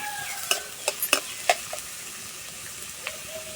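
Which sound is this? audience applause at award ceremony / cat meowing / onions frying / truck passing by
onions frying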